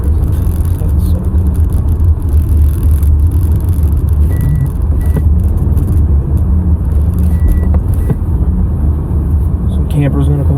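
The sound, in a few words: car driving and plowing through deep snow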